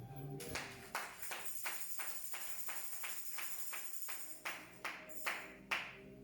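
A church congregation claps together in a steady, even rhythm, the claps fairly faint and slightly echoing, with a few louder accented claps near the end.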